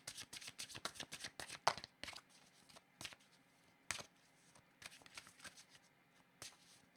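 Tarot cards being shuffled produce crisp, rapid riffling flutters in repeated bursts, close and quiet, with short pauses between shuffles.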